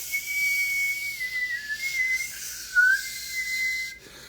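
A person produces palatal whistling, a single clear, steady high tone held for several seconds with small pitch dips and slides, loud and close, then cutting off abruptly.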